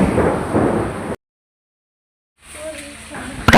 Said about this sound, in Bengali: এবার অনেক জোরে বিদ্যুৎ চমকালো, যার ভয়ে আমি দৌড়ে রুমে পালিয়ে গেলাম।